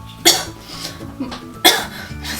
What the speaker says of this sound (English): Start coughing because I'm just getting the powder everywhere